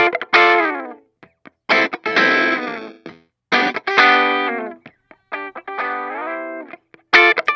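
Electric guitar chords and riffs played through a gritty, thin lo-fi amp tone, in loud strummed bursts separated by short pauses.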